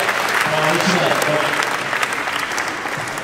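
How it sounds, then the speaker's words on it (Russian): Applause from a crowd at a live investors' meeting in Sokolniki, Moscow, dense and loud clapping throughout, with faint voices mixed in underneath. "Аплодисменты."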